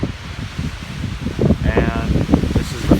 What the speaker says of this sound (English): as you can see, it's very windy out